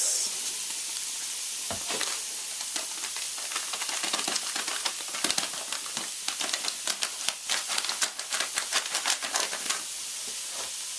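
Quorn mince with taco seasoning sizzles steadily in a pan over medium heat, a close, continuous frying hiss broken by scraping crackles as it is stirred.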